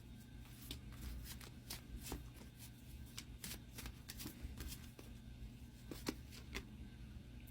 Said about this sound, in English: I'm going to pull a couple more cards for clarity